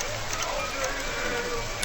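Steady rainfall in the hunting game Last Winter, a constant broadband hiss of drops spreading evenly across the short stretch with no pauses.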